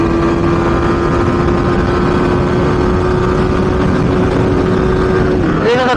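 A Yamaha R15M motorcycle engine accelerating hard in fourth gear on an open road, a loud, steady rising drone with heavy wind rush throughout, ending with a quick shift in pitch near the end.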